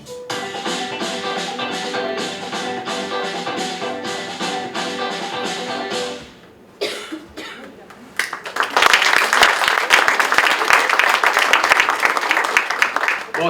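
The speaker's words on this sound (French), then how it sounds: "c'est bien de vous applaudir" Crowd applauding at a Téléthon launch welcome event held outdoors in the rain, with music playing for several seconds before a short pause, then a loud, dense burst of clapping that carries on to the end.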